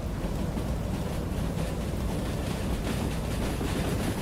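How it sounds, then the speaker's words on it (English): Train running in the Derail Valley video game, a continuous even rumble and rolling noise held at steady loudness throughout, with no talk. "I want to keep the train going."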